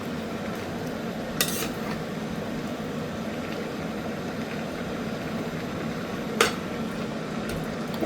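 Spoon stirring ground mustard paste into a pan of Malabar spinach curry, with two brief clinks against the pan over a steady low background hum.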